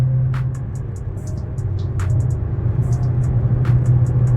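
Dodge Challenger Vicrez Demon wide body engine accelerating into boost, with a loud steady rumbling drone heard from inside, rising slightly in intensity, with faint chirps above it.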